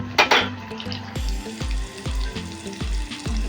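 Chicken popcorn frying in hot oil, a continuous close sizzle layered over a regular low thumping pulse, with no talking.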